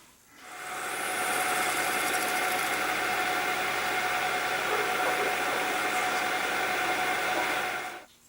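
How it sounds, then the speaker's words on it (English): A steady, whining power drill runs close by, drilling a pilot hole in a pen blank, spinning up quickly, holding one even pitch for several seconds, then winding down. "So I'm going to drill a pilot hole here"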